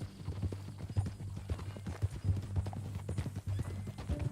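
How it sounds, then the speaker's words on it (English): Horse hooves clip-clop at a walking pace in Red Dead Redemption 2, an even, close rhythm of soft thuds that runs throughout with no talk over it. "That new horse?"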